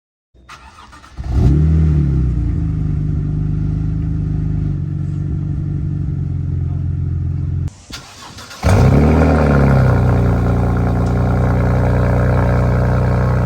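A 2011 BMW E92 with the resonator and secondary cat deleted starts up with a sharp blip and settles into a loud, throaty idle. It cuts off briefly, then restarts with another rev into a fuller, rumbling idle.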